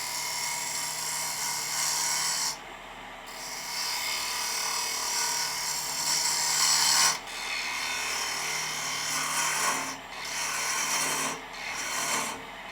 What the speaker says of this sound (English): So we'll begin by facing this off with the 1/4" bow gouge.